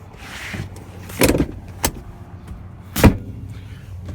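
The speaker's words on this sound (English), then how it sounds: "the back folds down." Rear seat back folding down in a 2020 Toyota 4Runner TRD Off-Road Premium, a few distinct mechanical clunks and latch thuds inside the cabin, the loudest near the end, with quieter rustling and shifting between them.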